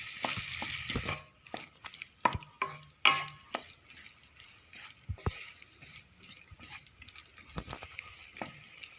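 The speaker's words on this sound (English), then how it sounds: "Along with that add water too and stir it well." Water is stirred into an omelette curry in a pan, with close scraping and sloshing strokes, light drips and a soft sizzle, irregular and fairly quiet.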